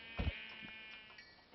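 A sheep bleats in Minecraft with the Foolcraft 3 modpack, giving one short, soft bleat followed by faint repeats over a quiet game background.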